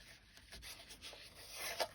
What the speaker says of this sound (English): Just going to trim it down a little bit so that it'll fit